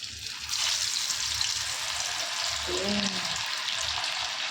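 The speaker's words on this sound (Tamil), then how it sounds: "அந்த மீனை எடுத்து மை ஃபேவரேட் ஒன்று எண்ணெயில் போட போகிறோம்" Masala-coated fish fries in hot oil with a loud, steady crackling sizzle that surges as the fish goes in and holds throughout. A faint voice is briefly audible underneath.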